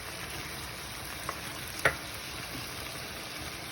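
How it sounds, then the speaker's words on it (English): Chicken and vegetables stir-frying in a pan for a peanut stir fry, giving a quiet, steady sizzle with a couple of faint utensil clicks as the food is stirred. "to always stir, keep stirring that everything can cook equally."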